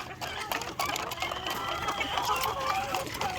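White leghorn laying hens and game fowl in a coop, clucking in soft overlapping calls amid a steady, busy farmyard background at close to moderate distance.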